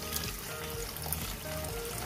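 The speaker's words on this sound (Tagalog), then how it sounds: "Tapos lagyan na natin ang tubig." Water poured into a pot of miso paste while cooking salmon sinigang, a steady close trickle and splash running continuously without a break, with no talking.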